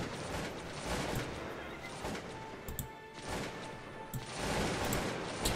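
Massed musket volleys from infantry troops in the strategy game Cossacks 2 crackle in dense, overlapping bursts, loud and continuous across a battlefield, with dips and swells in intensity.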